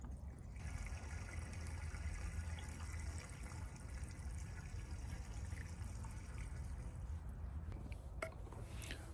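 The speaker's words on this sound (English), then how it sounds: "All right, so I put in 2 gallons." Pink food-safe RV antifreeze pours steadily into an RV water system, a continuous soft trickle and gurgle of liquid, close and fairly quiet, with no talk.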